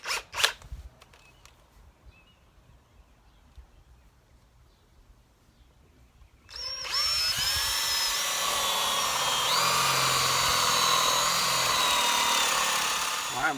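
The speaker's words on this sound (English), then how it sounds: "So we're going to drill a 1-inch hole right in the center, about 3/4 of the way through the block." A power drill bores a 1-inch hole through the center of a wooden block for a carpenter bee trap: a few handling knocks, quiet, then the motor whines up loud and holds a steady, close grinding drone.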